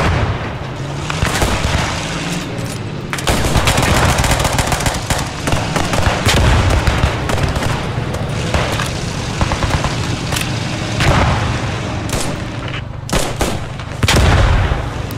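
Gunfire and explosions in the WW2 video game Post Scriptum on the Carentan map, dense overlapping shots and booms at varying distances, loud and continuous throughout.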